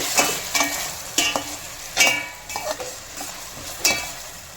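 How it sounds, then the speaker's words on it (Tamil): Onions and tomatoes sautéing in a pan for fish curry, with a soft steady sizzle broken by several sharp stirring scrapes at irregular intervals, close and moderately loud, no voices. "வெங்காயம் தக்காளி நல்லா வதங்கிடுச்சு."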